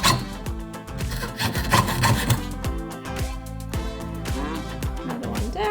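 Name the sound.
jeweler's saw blade cutting sterling silver sheet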